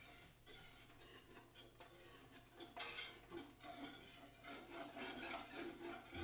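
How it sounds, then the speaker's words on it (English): Whisk scraping and stirring through flour, beer and vegetables in a metal stock pot, a quiet continuous rubbing swish with irregular metallic scrapes against the pot, close and alone. "I'm actually going to whisk it a little bit and make sure that flour is nice and turned inside in the stock pot"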